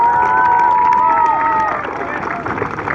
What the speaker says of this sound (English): let's give Mike a big round of applause